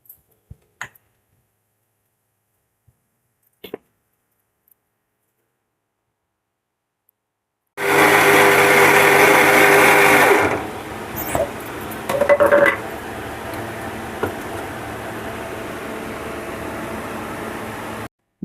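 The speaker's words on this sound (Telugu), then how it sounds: "దీన్ని ఇప్పుడు ఒకసారి మిక్సీ పట్టుకొస్తాను" A kitchen mixer grinder whirs loudly for about three seconds while crushing mango-ginger pickle ingredients with garlic, then stops, and a second short burst follows; scattered faint clicks come before it starts.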